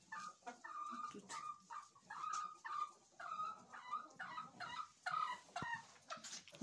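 Hens cluck in a chicken coop, a run of short repeated throaty calls in quick bursts, close by and moderately loud, with a few sharper squawks mixed in.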